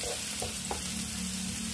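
Green chillies, two or three of them, softening in a pan for a bread roll filling give a steady close sizzle with faint stirring taps, no talk.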